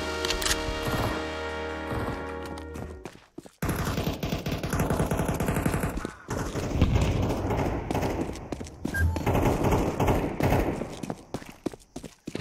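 Fake gunfire from a decoy grenade in Counter-Strike 2 on the Ancient map, repeated bursts of rapid shots with short pauses between them, loud and close, mixed with other game noise.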